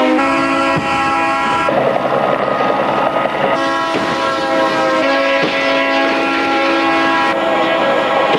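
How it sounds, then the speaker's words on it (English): Approaching train in Dayton sounds its horn in long sustained blasts, loud and close, with the rumble of the locomotive underneath throughout. "When that train is coming your way with the headlight blazing, it looks like it's a lot further away."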